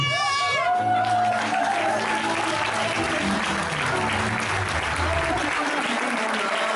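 A crowd claps at a wedding fair while music tones and a voice carry over the top, the applause steady throughout the few seconds and fading near the end.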